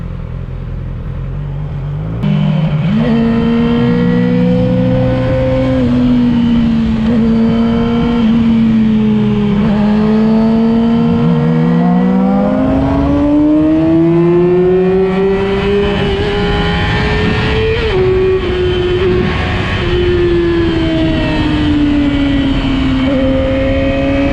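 A Yamaha R6 and a Suzuki GSXR600 accelerate hard toward the highway, their loud high-revving inline-four engines whining close by and climbing in pitch through gear changes for the whole stretch.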